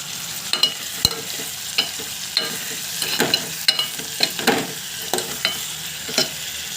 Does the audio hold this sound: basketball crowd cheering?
no